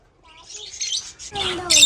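Java, Bengalese and zebra finches chirp as they are released, with high quick tweets rising to a busier burst near the end and a faint voice underneath.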